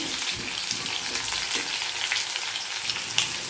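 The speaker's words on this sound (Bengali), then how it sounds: "এখন এই যে তেলের মধ্যে দুটো তেজপাতা দিয়ে এখন আলুগুলো দিয়ে দিয়েছি" Potatoes with two bay leaves fry in hot oil for a Bengali potol-chingri dish, a steady close sizzle with crackling pops throughout and no voices.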